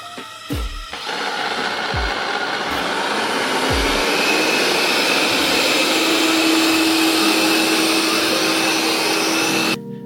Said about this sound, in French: je vais demander à l'aspirateur de faire un petit nettoyage